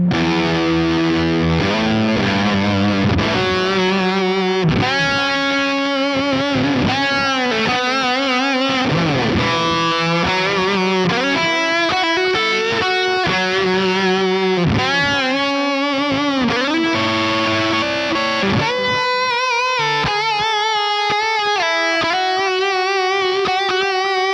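Thick, saturated Big Muff-style fuzz guitar through a NUX MG300 playing a continuous riff of chords and bends, loud and dense throughout without pause.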